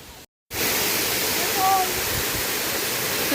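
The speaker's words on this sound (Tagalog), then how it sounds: "Tapos yun yung first waterfall, di ba?" A roaring waterfall on East Dragon Stream pours as a dense, steady rush of white noise, loud and close, broken only by a split-second dropout near the start.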